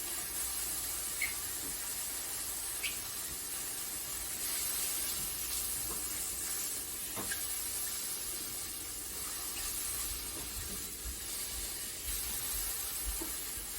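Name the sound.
mushrooms sizzling in a pan as the liquid cooks off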